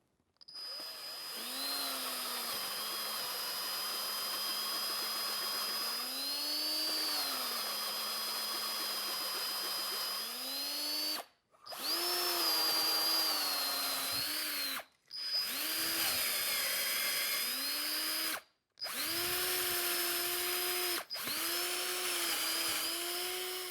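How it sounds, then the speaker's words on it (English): A drill bores out a broken EGR bolt hole on a 6.7 Powerstroke diesel engine, a loud, close whine that shifts pitch under load, stopping briefly three times before spinning back up, with no voices. "Let's get a little bit more lube on this thing, drill this hole out"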